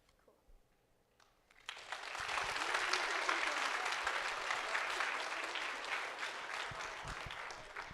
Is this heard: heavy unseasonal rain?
no